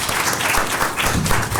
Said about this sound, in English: just another round of applause for Jacqueline, Jackie, Kaylee,